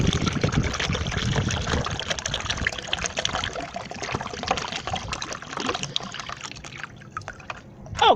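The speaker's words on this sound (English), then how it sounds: "we continuously add more water so it will go around" Water pours and trickles steadily into a cooking pot, a continuous liquid splashing and dribbling that stays fairly loud throughout, easing slightly near the end.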